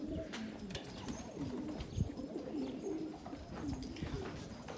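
Pigeons coo in soft, repeated low rolling phrases, close and moderately loud, several calls overlapping against faint background noise with no talking.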